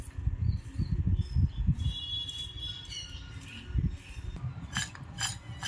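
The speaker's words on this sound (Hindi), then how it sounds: "इस तरह से हम इसे टॉस कर लेंगे, मिक्स करेंगे अच्छी तरह से।" Potato lachha namkeen snack tossed with spice mix in a bowl, producing light crisp rustling and clattering bursts with thin metallic clinks, close and fairly quiet, in irregular shakes.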